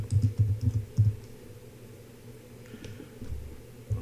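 Someone types on a computer keyboard in short clusters of soft, close keystrokes, pausing for about a second before a few more taps, with no talking.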